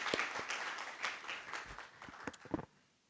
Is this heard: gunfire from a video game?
no